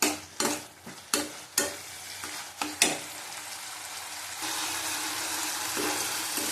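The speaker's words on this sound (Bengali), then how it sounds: "ভালো করে কষিয়ে নেবো।" A spice paste cooked down with sugar in a pan is stirred with a spoon, several sharp scrapes giving way to a steady loud sizzle, with no talking.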